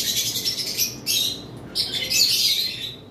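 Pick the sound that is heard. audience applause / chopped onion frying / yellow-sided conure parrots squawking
yellow-sided conure parrots squawking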